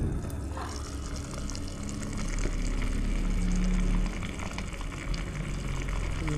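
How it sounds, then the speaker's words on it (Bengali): Electric water pump motor running steadily while filling a drum in a smart automatic-shutoff electrical project, a continuous close hum mixed with the rushing gush of water pouring in. "মোটর আছে চলছে।"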